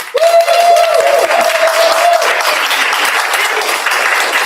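An audience at a university thesis and capstone presentation event breaks into sustained applause, a loud, even roar of many hands clapping, with a brief tonal hum at the start and faint voices mixed in.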